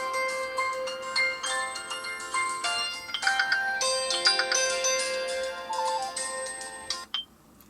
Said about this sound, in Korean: 그럼 바로 전화를 걸어줍니다